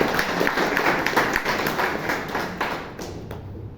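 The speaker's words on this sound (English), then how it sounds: "Please give the tag team a huge round of applause" Scattered clapping from a small audience at a Toastmasters club meeting in Bangalore, fairly close and steady for a few seconds, then thinning out and fading.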